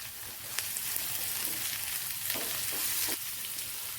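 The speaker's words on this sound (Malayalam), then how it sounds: "വഴറ്റി കൊടുക്കാം." About two tablespoons of finely chopped coriander leaves sauté in a hot pan, giving a steady, close sizzle with a few soft stirring scrapes and taps.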